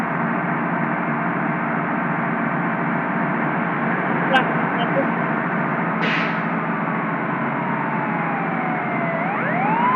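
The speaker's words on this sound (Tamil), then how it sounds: "ஆம்புலன்ஸ் எல்லாம் போகுது." Ambulance siren in the Indonesia Bus Simulator driving game, a faint wailing tone that sweeps and rises near the end. It sits over a steady bus engine drone, with a brief click partway through.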